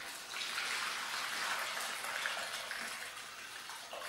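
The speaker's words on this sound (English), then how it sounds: "pour our brine" Brine is poured into a Ziploc bag holding a pork loin, giving a steady splashing gush of liquid for about four seconds with no talking.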